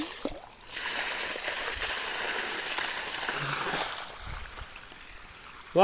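Water pours from a motor-pumped well pipe into a farm field, a steady rushing splash that holds evenly for several seconds after a brief lull at the start.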